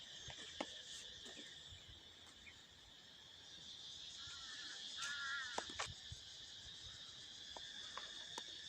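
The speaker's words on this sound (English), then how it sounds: "Do you hear the crickets chirping already?" Crickets chirp steadily in a faint, continuous high trill in Southeast Asian fields, with a few distant bird calls and small clicks scattered through.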